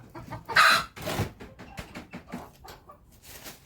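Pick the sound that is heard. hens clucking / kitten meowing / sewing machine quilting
hens clucking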